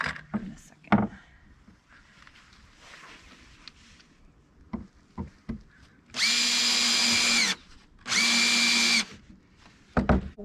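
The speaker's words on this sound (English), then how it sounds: "We are going to pre-drill all 4 of the holes that are going to go into the next panel." A power drill pre-drills four holes in the wood panels of a planter box: two sustained high whirring bursts of about a second each, loud and close, with scattered knocks and handling clatter between them.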